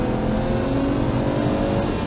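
A BMW E46 323Ci engine roars steadily as it revs under a braking downshift, a dense continuous drone heard close with no talk.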